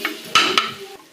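Grated fresh coconut is stirred in ghee in a kadhai, a spoon scraping the metal in two brief, sharp strokes over a faint sizzle, close up.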